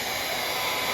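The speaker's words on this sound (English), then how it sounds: "I'm gonna go get the extension cord so we can plug in the blow dryer" Blow dryer warming a newborn calf on a farm: a steady, close, continuous airy whoosh of hot air that holds even throughout, with no talking.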